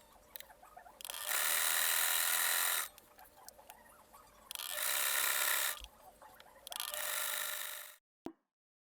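A sewing machine stitches a dress in three long, loud continuous bursts separated by short pauses, with a reverse stitch at the straps and faint handling noises between runs.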